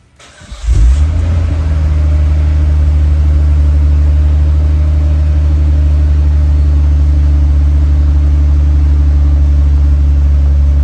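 Nissan Stagea RS Four S fitted with a Tomei turbo exhaust and test pipe fires up from cold after a second of quiet, then settles into a loud, steady, deep idle that holds close to the mic with no talk.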